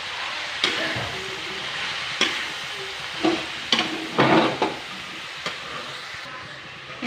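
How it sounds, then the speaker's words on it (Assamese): Dhekia fern frying in a pan gives a continuous hiss, and a spatula stirs and scrapes it in a run of irregular bursts. There is no talking. "ভাজিকণ বহাই দিছোঁ ধুনীয়াকৈ। এতিয়া লৰাই দিম দেই।"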